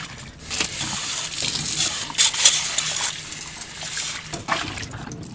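Water draining and splashing from a boiled aquarium part being rinsed with cold water, a continuous trickling and gushing flow with brief splashy bursts, close and fairly loud with no talking.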